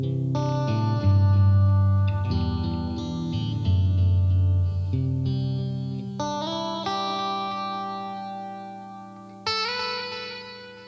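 An electric guitar runs through a tuner pedal into a Universal Audio deluxe reverb amp emulator, playing sustained chords and single notes with a thick, effected, reverberant tone, loud and continuous with no talking.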